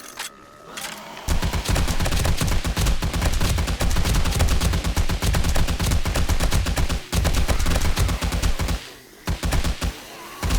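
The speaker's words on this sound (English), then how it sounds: "I'll also use the M60 where it's constantly firing." An M60 machine gun fires in constant bursts in the video game 7 Days to Die, a loud, dense, rapid rattle with only brief breaks, and no voices over it.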